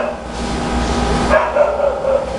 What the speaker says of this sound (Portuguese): Tem algum cachorrinho aí atrás, doutor?